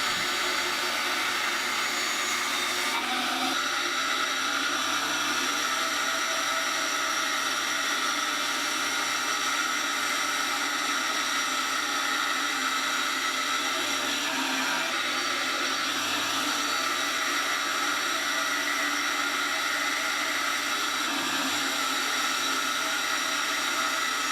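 A bandsaw runs steadily while ripping a thin sliver off 1-inch white oak stock with a taper jig, giving a continuous, even whine and rush of cutting noise with no pauses and no talking.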